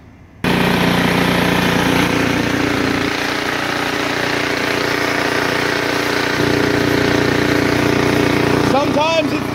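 A Craftsman 24-inch snowblower engine runs steadily close by with a rough, continuous drone, freshly filled with new gas and oil. There is a brief shift in tone partway through, and a faint squeal near the end.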